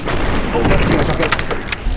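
Shotgun blasts in the video game Gunsaw, a side-scrolling shooter: dense, loud booming bursts fill the whole clip with heavy low-end rumble, with other game sounds mixed in.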